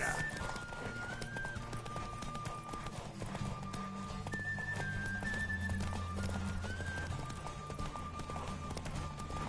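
Hooves drum steadily as a horse gallops through a race in The Witcher 3, loud and near, with whinnies breaking in over sustained tonal music and little talk.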